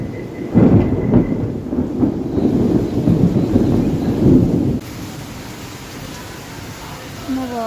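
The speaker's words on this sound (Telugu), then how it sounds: "మీకు థండర్ సౌండ్ వినాలని ఉందా?" A heavy thunderstorm in Vizag: loud rolling thunder rumbles over steady pouring rain, then the thunder cuts off and softer rain hiss carries on, with faint rustling nearby.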